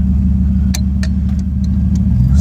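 A 1938 Chevrolet Master Deluxe's warmed-up engine idles close by, a loud steady low rumble with a few faint clicks over it and no talk.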